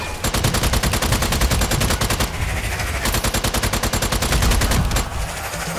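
Rapid automatic gunfire in the co-op shooter Strange Brigade's horde mode, a loud continuous burst of shots with brief gaps, dense and close throughout.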